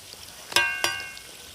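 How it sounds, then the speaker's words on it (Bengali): A chicken-filled snack fries in oil with a soft continuous sizzle, broken by two sharp, ringing metallic clinks of a utensil against the pan as the piece is turned. "তো এবারে এটাকে উল্টে আমি ভেজে নেব।"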